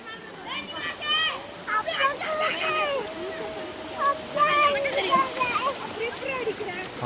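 Someone swimming and splashing in the Kottathara river in Kerala, with close, irregular water splashes and a steady flowing-water background while people talk and call out throughout.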